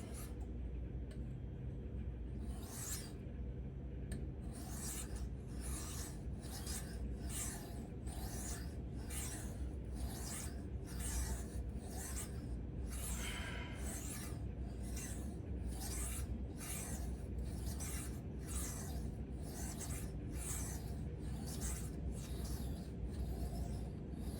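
A sharpening stone is trued with a Nano Hone truer, held by hand and pressed hard, making a steady run of rhythmic gritty rubbing strokes, roughly two each second, close by and with no talking.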